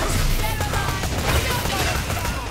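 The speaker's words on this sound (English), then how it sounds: "I don't know where the explosions are coming from." Explosions and gunfire in a multiplayer shooter video game: a sustained barrage of rapid shots and booms with crackling debris, loud and close, while players talk over the action.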